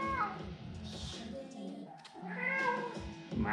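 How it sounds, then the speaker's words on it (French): A pet cat indoors gives a few soft meows, faint and close, with a person talking quietly around the calls. "Le chat."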